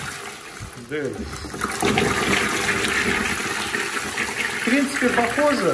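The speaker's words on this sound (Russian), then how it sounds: "сейчас покажу малый слив, допустим, как будет сливать, если маленький нажимаете" A toilet flushed with its small flush button, water gushing and draining loudly and steadily into the bowl, with a person talking briefly over the rushing water.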